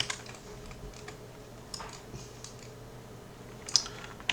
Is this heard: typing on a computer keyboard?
yes